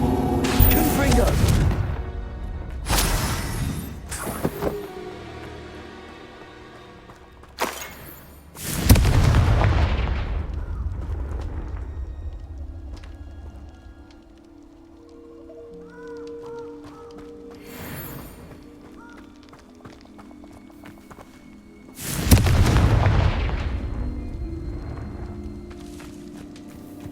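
Explosive Confringo spell blasts in Hogwarts Legacy, several loud booming bursts spaced irregularly over rumbling combat sound, with the heaviest impacts near the start and two more later on.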